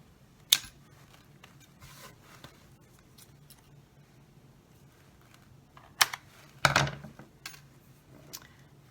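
Scissors cut an end strip off a plastic soda bottle in a few sharp, crisp snips and crackles, spaced apart with quiet gaps, close and moderately loud, without speech.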